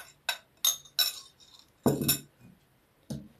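A spoon clinks against a bowl while pancake batter of flour, baking powder and egg mixture is mixed for dorayaki, making several distinct, close scraping knocks in uneven bursts, with no talking.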